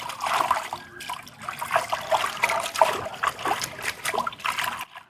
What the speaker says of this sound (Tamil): கொத்தமல்லியும் புதினா வந்து நல்லா கழுவி எடுப்போம்